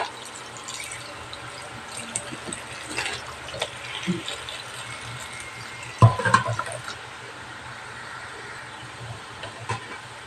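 Mussels being rinsed in water before their beards are pulled off, a steady wash of running and splashing water with scattered clinks and one sharper knock midway, close and alone with no talk.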